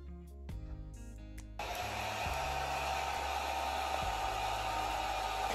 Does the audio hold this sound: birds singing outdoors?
no